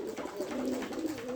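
Pigeons coo softly in a low, rolling warble, a short continuous phrase close by with nothing else over it.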